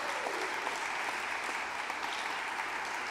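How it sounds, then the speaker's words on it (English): An audience breaks into steady, continuous applause for a woman named Julia, a full room of clapping heard close and evenly sustained throughout, without any voices over it. "Can we give Julia, yes, a big cheer?"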